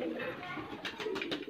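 High flyer pigeons in a loft, their soft cooing blending with a steady background murmur and a few brighter flutters or calls near the end.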